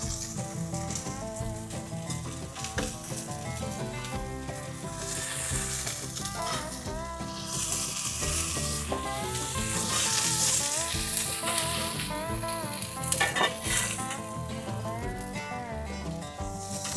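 Birria tacos sizzling on a griddle atop a Lone Star Grillz grill, a steady loud frying hiss running throughout with layered tonal background sound beneath it.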